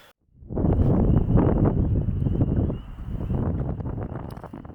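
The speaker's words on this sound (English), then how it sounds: "It's still pretty dang windy." Loud gusts of wind in Baxter State Park buffet the microphone after a brief quiet start, roaring and rumbling unevenly, easing slightly midway, then continuing strong.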